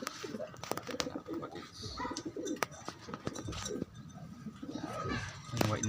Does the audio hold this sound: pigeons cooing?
yes